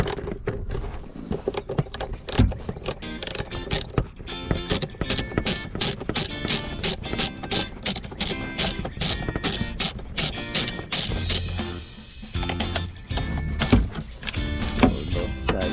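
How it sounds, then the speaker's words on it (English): Clamps being loosened on the air filter hoses of a C5 Corvette, a dense run of rapid ratcheting clicks, close and steady, continuing throughout without any talk. "we're gonna go ahead and remove these hose clamps down here, or loosen them at least"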